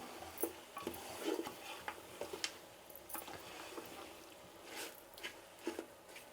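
A spoon scraping the bottom of a pot of chicken donne biryani while stirring, soft irregular scrapes and clicks at close range, fairly quiet, with no talk.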